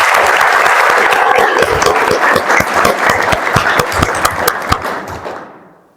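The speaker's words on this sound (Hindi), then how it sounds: "एक बार जोर से ताली हो जाए।" A seated audience breaks into loud, dense applause that carries strongly for several seconds before thinning and fading out near the end, with almost no talk.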